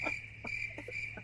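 Crickets chirp as an inserted sound effect, a steady high trill running throughout, with a few soft clicks and patters over a low hum.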